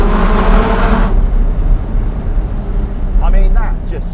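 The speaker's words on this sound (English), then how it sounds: "You never fully appreciate the sound that erupts out of the back of the 570." A McLaren 570S Spider with its roof down roars through a tunnel, a loud, close exhaust blare that cuts off sharply after about a second and leaves road and wind rumble, with faint voices near the end.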